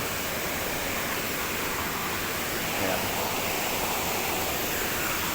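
Spring water flows steadily outdoors, a continuous broadband rushing wash with no breaks, moderately loud, while a person says a word briefly over it.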